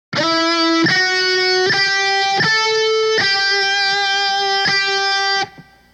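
Electric guitar playing a slow section of a song's solo: about six sustained, distorted notes stepping from one to the next, loud and alone, ending abruptly.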